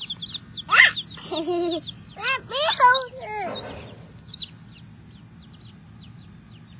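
Chickens in a backyard give a few bursts of clucking and squawking, loud and close, with a person talking over them.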